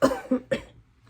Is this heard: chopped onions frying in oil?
no